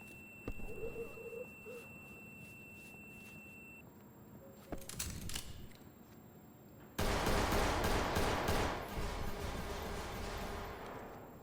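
Rapid bursts of Roblox gunfire crackle and pop, with scattered shots at first and then a loud, sustained barrage of firing.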